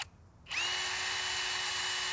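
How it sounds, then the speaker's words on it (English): 5/8 Forstner bit drilling into a wood stump, with a power drill spinning up after half a second of quiet into a steady, close, high-pitched whine that holds at an even level to the end. "I'm going to try this 5/8 Forstner bit"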